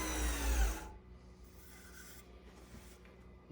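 Steady raspy hum of a palm sander on wood, fairly quiet and continuous, with a louder low rumble at the start.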